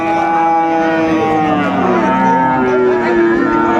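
Sahiwal cattle low loudly and continuously at a busy livestock market, long drawn-out calls overlapping amid a dense crowd murmur.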